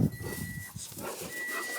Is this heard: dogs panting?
yes